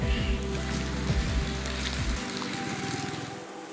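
Steady rain hiss in Muntilan, Java, with a low engine-like rumble that drops out partway, the downpour continuing alone.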